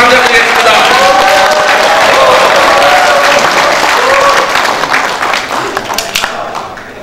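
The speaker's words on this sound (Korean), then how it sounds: "여러분 큰 박수 함성으로 환영해 주시면 감사드리겠습니다." A loud crowd at a regional councillors' rally for decentralisation applauds and cheers, with dense clapping and shouts filling the hall throughout before slowly tapering off.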